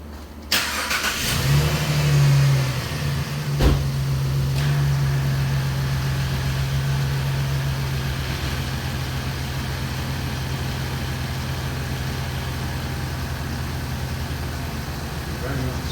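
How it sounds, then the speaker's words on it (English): A real car engine turns over and starts, then settles into a steady loud idle with a slight rev, droning on with a low hum for the rest of the stretch. "Now I'm going to just turn the car on. It's running."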